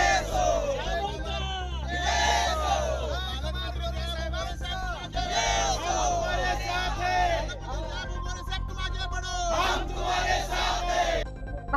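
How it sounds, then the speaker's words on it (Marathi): A large, loud crowd of BJP workers and supporters of winning candidates cheers, whoops and chants in celebration of an election victory in Solapur, a continuous roar of massed voices with repeated shouted surges. "विजयी उमेदवारांच्या समर्थकांनी मोठा"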